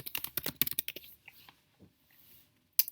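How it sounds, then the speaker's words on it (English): A name is typed on a computer keyboard in a burst of quick, close key clicks. Isolated taps follow and trail off, with one last sharp keystroke. "So I'm just going to go ahead and type my name here."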